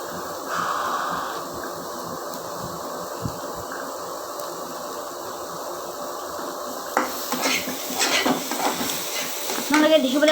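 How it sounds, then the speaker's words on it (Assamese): Leafy greens (bhatua saag) fry in a wok, giving a steady sizzle with stirring scrapes throughout; the frying grows busier and louder toward the end. "এইখিনি ধুনীয়া শাকখিনি ধুনীয়াকৈ ভাজে গৈছে"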